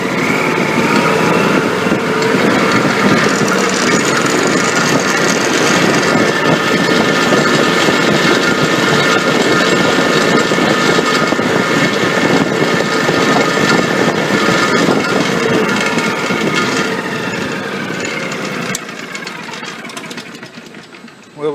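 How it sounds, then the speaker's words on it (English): A small engine revs up to higher RPM during an alternator and voltage regulator test, a loud, steady, buzzing high-speed drone held for most of the run before settling lower toward the end. "Now I'm going to raise the RPMs up."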